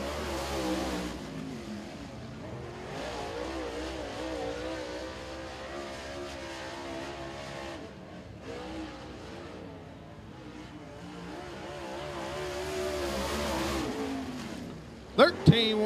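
A race car roars out of turn four at Thunderhill Raceway during Southern All Stars qualifying, its engine note surging steadily for most of the pass before dropping away, with a commentator's voice running underneath.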